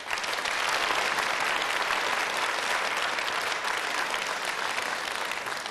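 Dense, sustained applause from a large theatre audience at the Moscow Art Theatre (MKhAT), steady and loud throughout with no voices on top.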